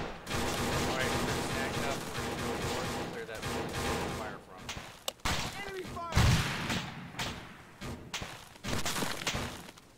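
Heavy gunfire in the Arma 3 video game during an urban firefight, dense bursts and single cracks with thumping impacts, loud and continuous, under radio-style team talk.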